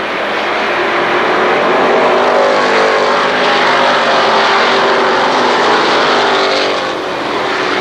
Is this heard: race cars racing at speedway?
yes